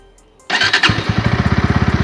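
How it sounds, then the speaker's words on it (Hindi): A new motorcycle engine cranks briefly with an electric starter, then fires on the first attempt and settles into a steady, close, rapid idle. "अब गाड़ी जो है वो बिना किसी सेकेंड अटैम्प्ट के ही चालू हो गई है"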